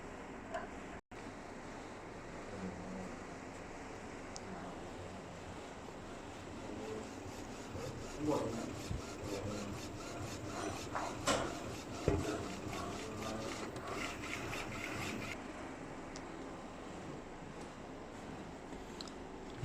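An A4 printing machine prints a white layer with a steady mechanical whir, and a stretch of rapid, regular ticking from the moving print carriage builds in the middle before easing back to the hum.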